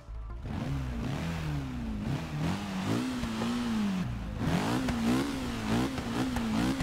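V8 car engine in the racing game Forza Motorsport 6 starting up and settling into a rumbling idle with rising and falling revs, steady and moderately loud with no talking.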